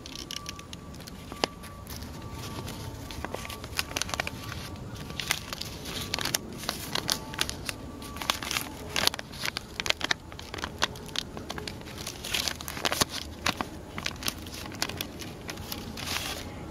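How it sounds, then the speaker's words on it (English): Close-up crinkling of leaves, soft irregular crackles and rustles rising and falling, with no voices. "the leaves and the trees make a beautiful"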